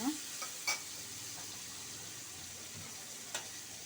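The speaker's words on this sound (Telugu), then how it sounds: "నేను దీంట్లో పుదీనా కరివేపాకు వేసేస్తున్నాను." Mint and curry leaves dropped into frying tomatoes and onions, a few sharp crackling bursts over a soft, steady sizzle.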